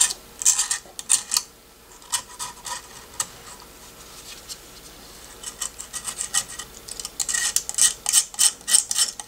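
A blade scraping old foam edge off a Toyota Sequoia/Tundra factory speaker cone, close repeated rasping strokes in bursts with short pauses between, no talking.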